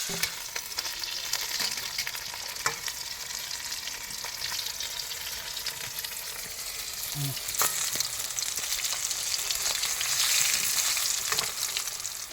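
Fish frying in a pan, likely hilsa, with a soft, steady sizzle and a few faint pops and clicks throughout, heard from a little distance with no clear talk.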